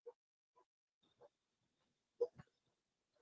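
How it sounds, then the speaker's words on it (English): A large dog of nearly 200 pounds gives a few scattered short barks and woofs, faint and distant, with one stronger deep bark partway through and quiet gaps between. "That's a 200-pound dog nearly."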